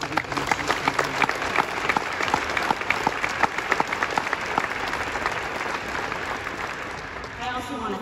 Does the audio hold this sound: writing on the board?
no